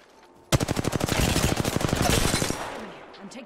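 Rapid automatic gunfire from the Apex Legends video game bursts in loud and close after a short quiet lead-in, a fast even stream of shots lasting about two seconds before tapering off into a softer tail.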